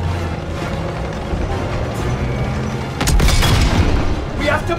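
Loud booming cannon fire from a tank in a World War 2 Call of Duty game, with a heavy blast hitting about three seconds in over a constant rumble of battle noise and shouting voices.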